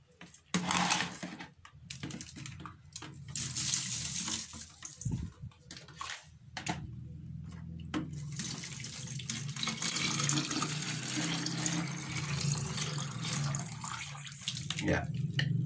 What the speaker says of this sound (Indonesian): Setelah itu, maka air kita masukkan.